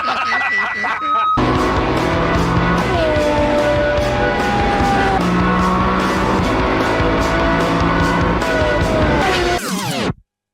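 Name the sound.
loud car engine revving and tyres skidding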